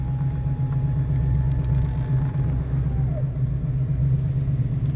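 A 1972 Ford Mustang convertible idles steadily close by, its low, even engine rumble continuing without a break and no revving.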